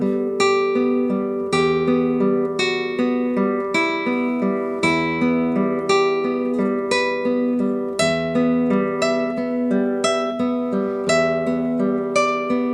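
A classical guitar plays a steady plucked passage, each note ringing clearly in an even, repeating rhythm, close and unaccompanied.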